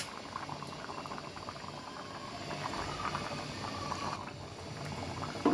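A pot of rohu fish curry with vegetables boils on the stove, a continuous close bubbling and gurgling of liquid with no talk.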